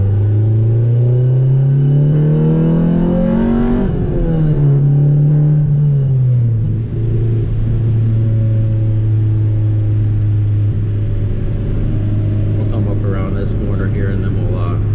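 Honda Integra GSR with an all-motor B18C1 engine, a salvage build with idle problems, pulling through the gears while driving; a steady engine drone rises in pitch, dips at a shift, then holds under an ongoing voice.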